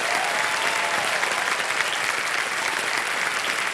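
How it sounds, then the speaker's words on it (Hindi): Steady, dense applause from a studio audience on a television quiz show, sustained at an even level throughout without speech over it. "तालियां बज जाए"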